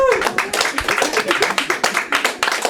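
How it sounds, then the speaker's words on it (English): A comedy club audience applauds for stand-up comedian Pinak Patel, brisk close clapping from a small crowd with a few louder hand claps standing out, running steadily throughout. "Warm round of applause for Pinak Patel"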